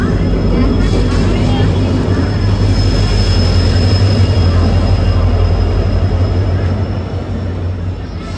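A train pulling into a station, heard as a steady, loud rumble of wheels and carriages with a thin high squeal running throughout, easing off slightly near the end.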